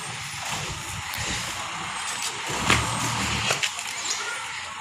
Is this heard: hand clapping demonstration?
no